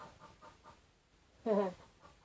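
A pet hen under bandaging first aid gives a single short, loud cluck over a quiet room with faint low rustling around it.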